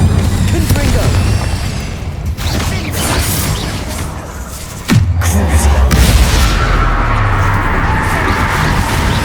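A Confringo fire spell blast in the Hogwarts Legacy video game: a sudden heavy boom about midway, followed by a rumbling, crackling tail amid continuous mechanical game effects and creaks, loud and close.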